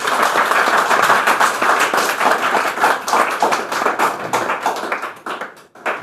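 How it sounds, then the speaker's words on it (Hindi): A crowd bursts into loud, dense applause, many hands clapping together before the clapping thins and fades near the end. "जोरदार ताली होनी चाहिए।"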